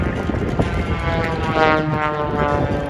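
A stunt propeller plane's engine roars overhead at an airshow, its droning pitch shifting as it swoops past at about 100 miles an hour, loud and continuous.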